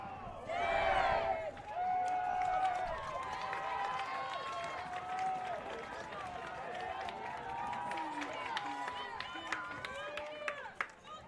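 Pro-Hale crowd at a boys ultimate frisbee final in Illinois, a sustained cheering roar swelling at the start and then settling into steady background noise under a commentator's voice.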